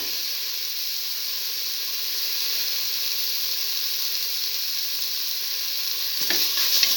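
Tomato pieces sizzle in a hot frying pan with a loud, continuous, even hiss, and a few faint clinks come near the end.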